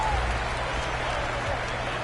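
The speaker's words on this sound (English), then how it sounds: "Crowd showing their appreciation." Crowd applause and cheering fill an arena in a college basketball video game, Miami versus UCLA, a steady broad wash of clapping and crowd noise at full loudness with no pause across the short stretch.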